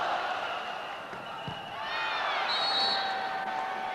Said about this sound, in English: the crowd here at the Shanghai Gymnasium set to make plenty of noise for this match